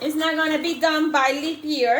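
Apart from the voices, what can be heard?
No everyday noises stand out.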